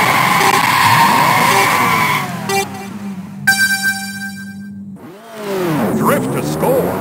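A racing car skids and drifts with squealing tyres and a revving engine in the arcade game OutRun Coast 2 Coast, loud and close, with sweeping engine pitch and a voice calling out over it.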